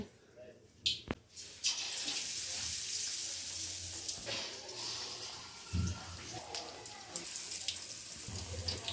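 Bajji fritters sizzling and bubbling steadily in a pan of hot oil, a continuous close hiss of frying that carries through the whole stretch with a few brief knocks and clatters.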